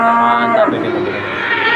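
A big bull at the Ambarawa cattle market gives a loud, drawn-out moo lasting over a second, strong and near, with crowd noise underneath.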